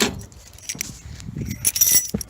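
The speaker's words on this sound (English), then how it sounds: "let me find the keys, wrong ones." Bunch of keys jangling close by while someone hunts for the right one, a few short metallic rattles that grow busier toward the end, with no talking.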